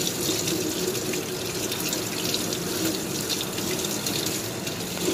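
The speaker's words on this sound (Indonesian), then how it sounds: "Ini saya cucinya itu menggunakan air panas ya guys ya, biar bersih gitu" Hot tap water runs steadily in a kitchen sink while greasy, sticky kitchen items are washed, a continuous close splashing gush with no talk.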